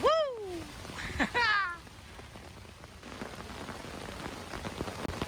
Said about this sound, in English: It is officially downpouring.